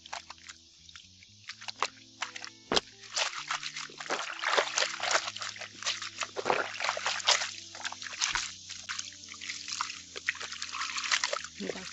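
Coloured clothes are rinsed and wrung by hand in a basin of water, with steady trickling, sloshing and dripping, and wet fabric squeezed in irregular bursts close by.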